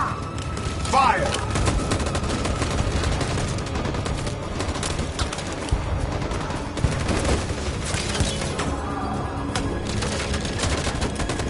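Soldiers in a video game fire weapons in a steady, dense barrage of gunshots and bursts across the whole span, with voices calling out amid the shooting.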